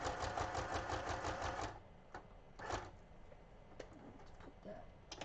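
A sewing machine stitches a lace-covered envelope made with book pages, running in a fast, close rhythmic clatter for under two seconds before stopping, followed by sparse clicks and handling noises.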